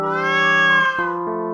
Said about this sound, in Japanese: 猫の声？